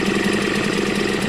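A Yamaha Malta 3hp two-stroke outboard, just serviced with a new water pump, idles steadily and loudly close by, giving a constant buzzing drone with a fine rapid pulse and no talk.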